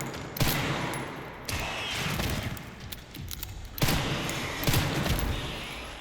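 Gunfire from the Resident Evil Requiem video game as a licker is shot, heard as several bursts of rapid shots with heavy thuds, separated by brief lulls.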